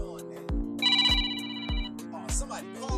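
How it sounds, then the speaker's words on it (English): A phone rings with an incoming call during a live painting session, playing a repeating electronic ringtone of bright tones over a low, rhythmic pulse, close and fairly loud. "somebody calling me on the damn"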